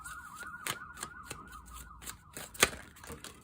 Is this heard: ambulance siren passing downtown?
yes